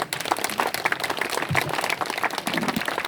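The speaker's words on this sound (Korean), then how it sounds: "큰 박수로 맞이해 주시기 바랍니다." An indoor audience applauds steadily to welcome a lecturer to the stage, dense continuous clapping throughout with a few louder individual claps near the front.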